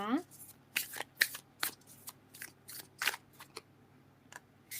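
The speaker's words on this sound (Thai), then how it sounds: "เรามาดูไพ่เวทมนต์กระดาษค่ะ" Tarot-style paper magic cards being shuffled in short, crisp bursts of riffling and flicking, close and fairly quiet, separated by brief pauses.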